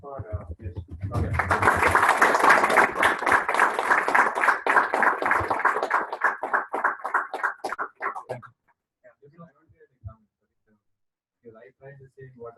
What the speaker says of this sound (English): So round of applause for yes.